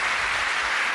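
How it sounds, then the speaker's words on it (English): A game show studio audience applauds a contestant with a steady, dense burst of clapping that stays loud and close the whole time. "Give him a round of applause, our contestant"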